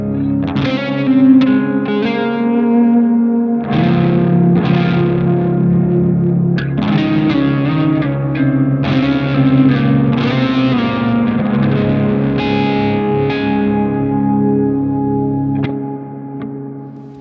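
Electric guitar through a Positive Grid Spark Mini amp with effects in a small loft: loud, close chords and picked lines with echo and light chorus, several separate strums and phrases, ending on a fading note with no speech.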